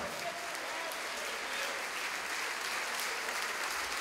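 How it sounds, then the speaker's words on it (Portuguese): Congregation in a church clapping steadily for several seconds, a continuous even roar of many hands heard from a moderate distance with no speech over it. "Vamos aplaudir mais ao nome do Senhor."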